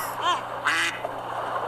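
A duck quacking in a Minecraft video game: a couple of short, nasal quacks close together, fairly loud and clear against a faint background hum.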